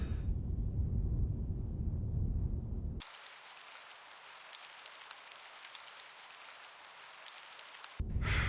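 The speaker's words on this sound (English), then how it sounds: "Why does it always rain in England?" Steady rain falling in the video game Her Majesty's Spiffing, a dense hiss after a louder low rumbling opening section, continuing evenly to the end with a brief louder burst at the close.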